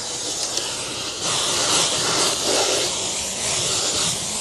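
A carpet cleaner sucks leftover water, soap and steam out of a dirty fabric couch. It makes a loud, steady, close-up hiss that gets stronger a little over a second in and holds to the end.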